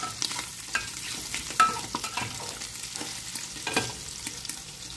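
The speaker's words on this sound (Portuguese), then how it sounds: "O mesmo azeite que eu fritei o bacon, agora eu vou fritar a calabresa." Calabresa sausage slices sizzle and crackle in hot bacon fat, with scattered pops and the scrape of a utensil stirring the pan; no voices.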